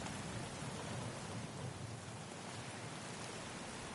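Steady heavy rain with rumbling thunder on a video game map, a dense constant hiss of downpour filling the whole stretch at even loudness, with no voices.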